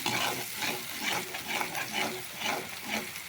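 Spice paste sautés in hot oil for a vegetable-free kuzhambu, giving a steady close sizzle with soft rhythmic stirring scrapes that swell and fade every half second or so.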